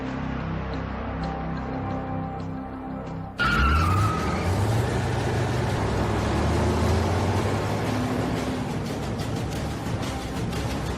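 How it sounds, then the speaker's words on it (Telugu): Many auto rickshaws race and skid in a movie action chase, starting with a low engine drone before a sudden loud burst of squealing tires and revving motors that continues densely to the end. "ఓరయ్యా, ఇన్ని ఆటోలు వస్తాయిరా?"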